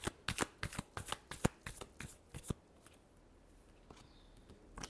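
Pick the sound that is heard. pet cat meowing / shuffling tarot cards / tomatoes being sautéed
shuffling tarot cards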